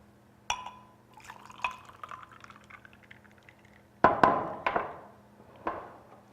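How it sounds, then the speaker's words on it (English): Rosemary-infused lemonade is poured into glasses: a few sharp clinks of glass, then a short splashing pour and trickle, quiet and close. "we are going to pour a little bit of the lemonade, the rosemary-infused lemonade, into the glasses"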